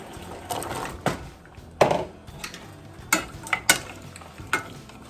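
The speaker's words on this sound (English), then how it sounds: "Give it a quick stir." Several scraping, clattering stirs of carrots in a pot over medium heat, irregular bursts of utensil against metal with a soft sizzling, watery bubble underneath.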